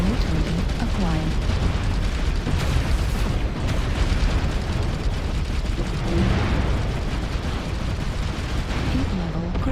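Dense, continuous explosions and heavy weapon fire in a mech combat video game, loud and layered throughout with someone talking over the din.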